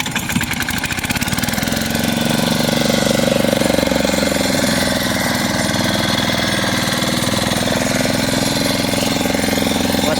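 A fishing boat's engine runs steadily and loud throughout, a rough, knocking drone with no break, heard on a first boat trip out to catch murrel fish.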